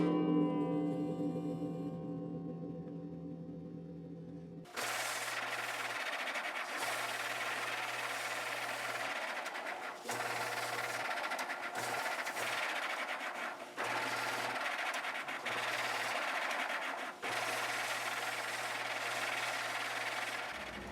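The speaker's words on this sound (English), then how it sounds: "over to the radius disc sander" A motorized radius disc sander in a guitar workshop starts up after a quiet moment and runs as a steady, loud grinding whir, with a low motor hum that drops in and out as the work is pressed against it.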